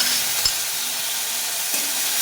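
Moong dal and pumpkin are stirred with ginger-cumin paste in a hot pan, producing a bright, steady sizzle with faint scraping touches from the stirring, close by and with no talking.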